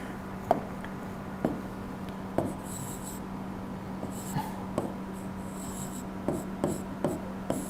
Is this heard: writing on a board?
yes